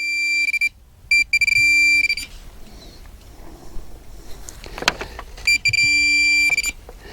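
A Pro-Find 40 pinpointer held over a gold nugget gives a loud, steady electronic tone that stops and restarts, with a short break in the middle filled by faint handling noise and clicks.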